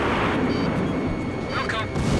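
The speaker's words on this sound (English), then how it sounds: "Damn, they've got cannons." Cannon fire from enemies in Ace Combat 5, a dense, steady rumble of booming shots under a constant engine roar, with speech-like radio chatter mixed in.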